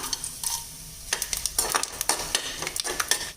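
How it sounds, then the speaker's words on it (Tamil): Hot oil sizzles and crackles steadily as tempering spices, then slit green chilies, hit the pan for a jackfruit biryani, with scraping stirs and sharp pops throughout. "இப்போ எண்ணெய் காஞ்சிருச்சுங்க இப்போ தாளிப்பு சாமான் எல்லாமே சேர்த்துடலாம்"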